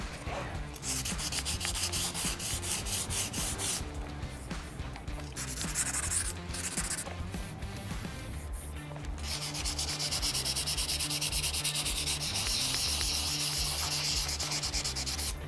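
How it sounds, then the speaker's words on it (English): Dry sandpaper rubbing back and forth on a gouged Ford F-150 Raptor fender flare, a continuous scratchy rasp with rhythmic strokes and brief pauses, close up. "I'm gonna just dry sand some of these areas where it's gouged"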